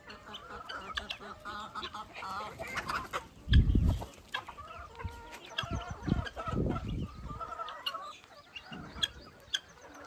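Free-range country chickens cluck on a farm, a busy, fairly quiet mix of overlapping clucks and calls with a few louder low thumps and bursts mid-way.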